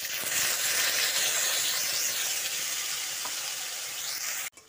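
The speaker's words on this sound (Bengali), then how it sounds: "রসুনে হালকা রং ধরলে এর মধ্যে দিয়ে দিচ্ছি আদা, টমেটো, কাঁচা লঙ্কার পেস্টটা" A loud, steady sizzle comes from ginger, tomato and green chili paste frying in hot oil with garlic, continuous and close, with faint stirring scrapes before it cuts off abruptly at the end.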